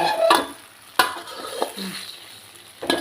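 Eggs fry in a pan with a soft sizzle, punctuated by a few sharp clinks and scrapes of a utensil against the pan, heard up close with no talking.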